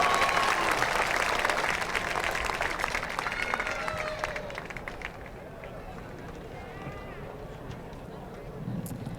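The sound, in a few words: applause for graduates at a high school graduation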